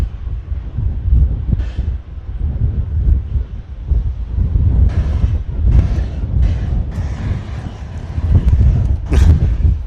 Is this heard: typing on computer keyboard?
no